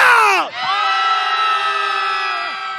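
A crowd at a candlelight rally erupts in loud, sustained shouting and cheering, a dense mass of voices that dips briefly then holds steady at full volume close by.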